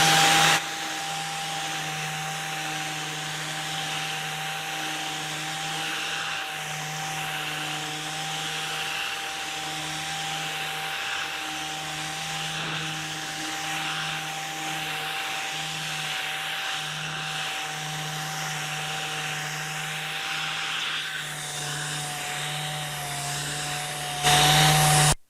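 A pad sander working a flat surface gives a steady, loud motor whine with a constant drone that holds evenly for the whole stretch, close by and with no talk.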